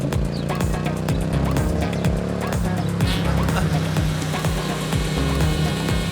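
A car drives and brakes to a halt in a film scene, its engine and road noise loud and continuous, mixed with dense music throughout.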